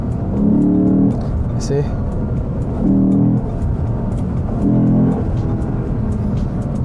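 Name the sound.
2015 Lexus RC F car accelerating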